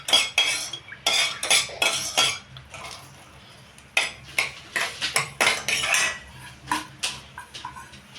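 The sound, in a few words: onion pieces frying and stirred in a pan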